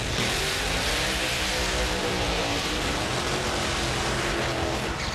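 The Why Not Racing team's Top Alcohol Dragster roars at a drag racing semi-final, a loud, constant, broadband engine blast that stays steady and dominant the whole time with no voices.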